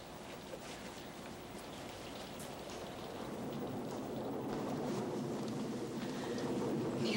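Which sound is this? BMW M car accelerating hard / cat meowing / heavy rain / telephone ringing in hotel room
heavy rain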